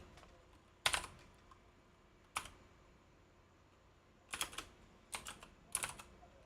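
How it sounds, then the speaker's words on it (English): Someone types on a computer keyboard in short separate bursts of crisp key clicks with quiet pauses between them, close by in a quiet room, and no one talks. "let me just type it in"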